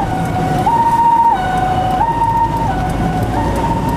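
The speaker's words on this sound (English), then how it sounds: "we met this ambulance, which was also headed there. It had a siren" An ambulance siren wails in a steady, loud two-tone pattern, alternating between high and low pitches, up close amid heavy city traffic in Accra.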